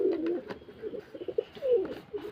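Pigeons coo close by in soft, repeated throaty phrases, several overlapping calls with short pauses, heard alone.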